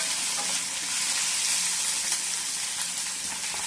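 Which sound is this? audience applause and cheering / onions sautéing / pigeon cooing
onions sautéing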